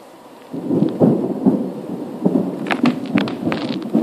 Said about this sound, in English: Another day of thunderstorms.